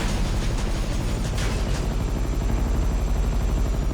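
Mi-8 transport helicopter in GTA 5 gives a steady, loud rotor and engine drone that holds through the whole stretch, with a few brief brighter bursts early on and no voices.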